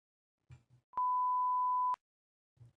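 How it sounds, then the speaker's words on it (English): A single steady electronic tone of about one second sounds on a speakerphone call, sharply starting and stopping, with brief soft voice fragments just before and after it. "That was a shit beep."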